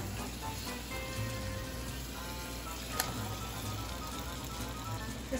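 Chicken pieces sizzling in a pan of golden-brown fried onions for chicken biryani, a steady, crackling hiss that fills the clip at moderate volume, with no voices.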